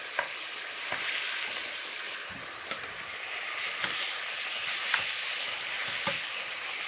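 Gyros meat frying in a pan and being stirred, with a steady bright sizzle broken by sharp scraping stirs roughly every second; no voices.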